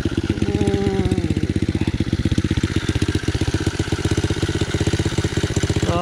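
Turbocharged pit bike engine running, a loud rapid throbbing pulse that stays close and steady throughout, rising briefly in pitch near the start before settling into a rough, even beat.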